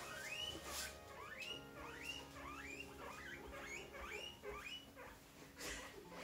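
Guinea pigs squeak repeatedly in rising, whistling calls, overlapping and close by, with soft rustling underneath.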